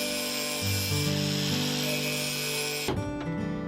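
An angle grinder deburrs the freshly cut metal edge of a wood-stove cover, a loud steady whine with shifting tones as it bites the metal, then dropping away near the end to a quieter rubbing.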